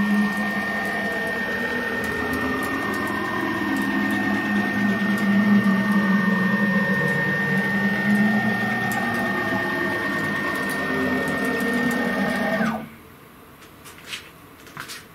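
A CNC router carriage traverses along one axis with a steady whirring stepper-motor hum and a constant tone, then stops abruptly, leaving near silence.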